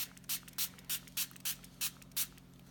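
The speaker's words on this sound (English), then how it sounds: "And then you're going to spray it, but you're also going to spray your watercolor paper" A spray bottle mists watercolor paper in a handful of quick spritzes, about eight evenly spaced soft hissing bursts, close and quiet with no talking.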